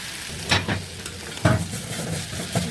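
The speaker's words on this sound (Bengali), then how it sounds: "করলা ভাজিও হয়ে এসেছে, আর কিছুক্ষণ জাল করে নামিয়ে নেব" Bitter gourd (karela) fries in a pan with a loud, continuous sizzle, broken by a few scraping stirs near the mic.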